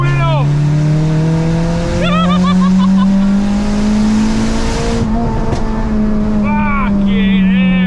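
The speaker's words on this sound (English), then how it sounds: "The exhaust is falling off!" Loose, rattling exhaust on a turbo-built Honda Civic Type R EP3 revs hard and holds a steady rising drone, with excited voices talking over it close by.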